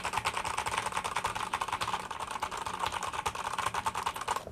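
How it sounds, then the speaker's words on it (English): Fingers hammer fast on a clicky computer keyboard near a wireless lapel microphone, a dense, continuous clatter of sharp keystrokes with no talking. "So let's just go ahead and go nuts on my keyboard here."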